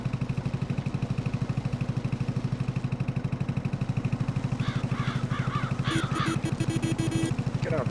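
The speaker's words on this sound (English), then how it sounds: "Get out of the way, birds!" Birds caw in Farming Simulator 22, several quick raspy calls late in the clip over a loud, steady, rhythmic farm machine engine drone.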